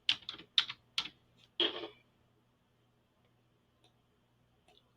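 A few quick clicks of typing on a computer keyboard at close range, a short burst of keystrokes followed by near silence with only faint scattered taps.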